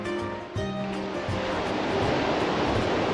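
Sea waves wash onto an empty beach in Lefkada, a continuous near hiss of surf that rises and falls softly with no one speaking.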